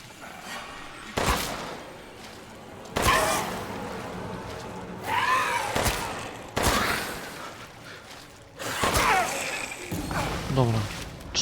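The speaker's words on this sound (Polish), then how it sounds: "Cztery strzały." Several loud, sharp gunshot bursts in the video game Resident Evil Village go off in separate clusters, each followed by ringing, metallic game effects, with a steady background hum between them.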